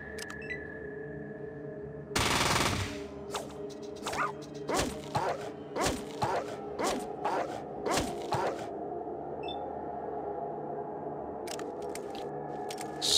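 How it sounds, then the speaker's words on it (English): Gunfire in the video game Fallout 1 during a fight with scorpions, a burst of one loud blast followed by a rapid series of sharp retro shots and impacts over a steady game hum, no talking. "Swap guns and take a pop shot at this one."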